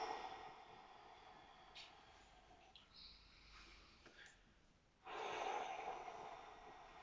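A long, soft exhale during a gentle stretching session: faint, steady breath noise that surges louder near the end, with no talk.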